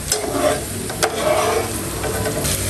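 Crispy banana flower fries in hot oil while being stirred, giving a close, steady sizzle with a few scraping stir sounds. Nobody talks.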